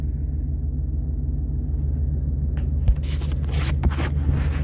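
An old GM station wagon engine idles smoothly on fuel more than seven years old, a quiet low rumble throughout, with light rustling and a few small clicks toward the end.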